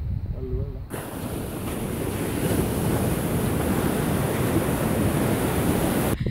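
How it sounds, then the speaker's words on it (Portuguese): Waves breaking on Anakena beach on Easter Island, a loud, sustained roar of surf after a brief quiet start, with heavy wind buffeting the microphone. "Olha a praia de Anaquena."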